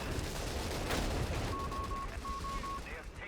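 Artillery and heavy machine gun fire in a Company of Heroes 3 battle: muffled distant blasts and bursts of gunfire, with a short beeping tone pattern partway through.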